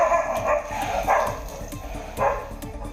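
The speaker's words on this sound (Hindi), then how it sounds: "दूर से कुछ आवारा कुत्ते भी भौंक रहे थे।" Stray dogs near a petrol pump bark repeatedly at a prowling lion, the barks coming from a distance in an uneven series over a steady background hum.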